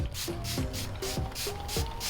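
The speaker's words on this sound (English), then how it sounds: "just go ahead and spray this all over my hair" Leave-in curl spray with coconut milk, nettle and chamomile is sprayed onto hair in a rapid series of close, soft hissing pumps, about eight bursts in quick rhythm.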